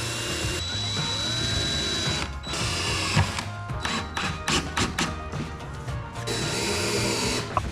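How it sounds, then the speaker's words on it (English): A drill driving pocket screws into a 2x4 frame for a kids' bike and scooter rack, with a steady motor whir, then stuttering bursts and clunks as the screw seats, then a steady whir again, close and loud. "I'm just going to be using a very small drill bit as kind of a pilot hole to get started,"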